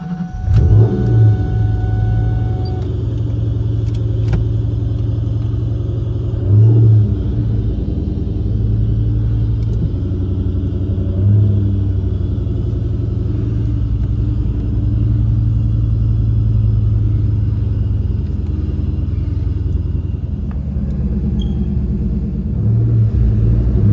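A 2004 Ford Mustang Cobra rumbles steadily at close range, a deep continuous engine note with a few brief rises in revs across the stretch and no talking.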